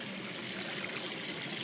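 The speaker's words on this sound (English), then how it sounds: "And down through here we're running much lighter water." Light water trickles and splashes steadily through a homemade cleanup sluice box while gold prospecting, a continuous close, bright babbling hiss without pauses or voices.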